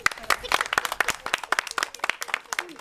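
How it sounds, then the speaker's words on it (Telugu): Small group at a neighbourhood Sankranti rangoli competition claps for the third-prize winner, a sparse, uneven patter of individual hand claps close by. "థర్డ్ ప్రైజ్ అయితే నందినికి క్లాప్స్"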